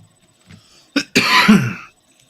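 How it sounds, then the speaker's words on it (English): A sick person gives a single close, harsh cough after a short throaty catch, loud and alone, followed by quiet. "Sorry if you hear me coughing"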